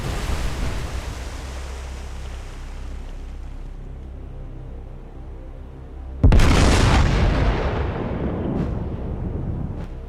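A naval gun salvo in the warship video game War on the Sea, fired during an Imperial Japanese Navy Pacific engagement: a sudden heavy boom after a long stretch of rumbling sea noise, then a rolling roar that slowly fades.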